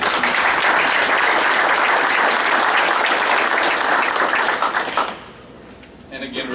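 An audience claps for board members at a memorial run check presentation, a dense burst of applause lasting several seconds before fading quickly, with a few voices after it dies down.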